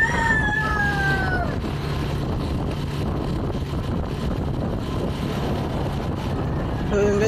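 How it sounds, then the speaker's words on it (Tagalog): A motorcycle engine with a slight ticking fault drones steadily while riding slowly, with heavy wind rushing over the microphone throughout and a brief high tone fading near the start. "Hindi ko nga patakbo na mabilis ang motor ko kasi medyo may lumalagitik sa makina."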